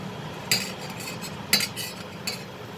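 Cheese garlic Maggi noodles being mixed in a pan with a utensil, a few sharp metallic clinks and scrapes over a soft, steady background sizzle.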